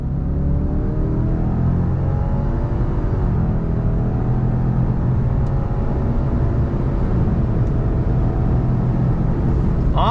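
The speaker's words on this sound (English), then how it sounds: "let's go ahead and see how the Legacy XT accelerates" 2021 Subaru Legacy XT sedan accelerating at full throttle, a loud continuous engine drone with rising pitch sweeps and simulated shift points, steady rumble from inside the car, no talk.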